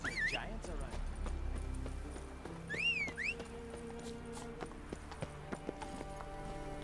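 Roach, a horse in The Witcher 3, gallops with steady clip-clop hoofbeats and gives a brief whinny, with game music and a voice talking over parts of it.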